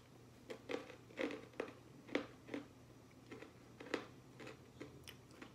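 Crunchy wasabi-flavored peas are bitten and chewed, a series of close, faint crisp crunches at irregular intervals with quiet pauses between them.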